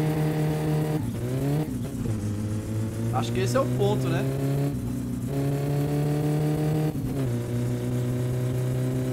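A car engine in the game My Summer Car, fitted with a new turbo, revs up and down in several loud surges with a steady droning tone, while someone talks over it.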